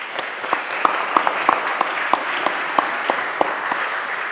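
Audience applause fills a wind band concert hall, a thick continuous wash of clapping with a few sharper individual claps popping out near the front, steady and moderately loud.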